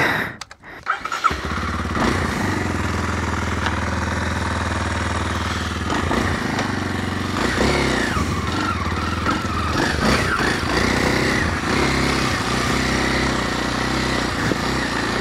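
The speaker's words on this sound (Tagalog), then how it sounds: "Itong motor natin guys na KLX 230, stock lahat to." A stock Kawasaki KLX 230 dirt bike engine sputters to life after a few thumps, then idles loudly and steadily nearby with occasional revs.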